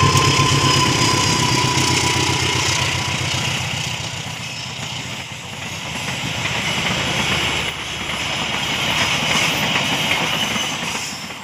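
Jaya Selatan passenger train passing near Cicalengka station: a loud, continuous rumble of locomotive engine and rolling wagons with rhythmic wheel clatter, swelling and easing as it goes by.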